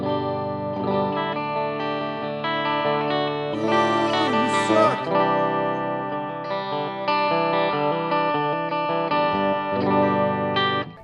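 PRS SE Custom 24 electric guitar played through a Mesa Boogie amp on the clean side of the fat channel, with a little Ocean's 11 reverb: sustained clean chords and picked notes, close and steady, ringing into a soft reverb tail.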